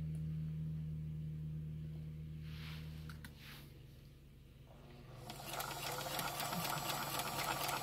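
Sewing machine stitching triangle pieces of fabric, a steady close motor whir with a low hum that drops off partway, then resumes louder with a bright rattling buzz.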